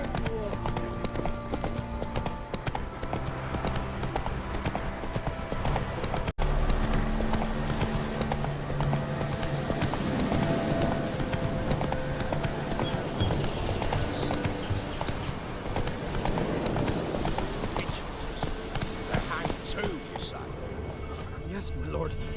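Hoofbeats of a horse galloping in the video game The Witcher 3 pound steadily and loudly throughout, mixed with game music and ambient sound, while voices talk over parts of it.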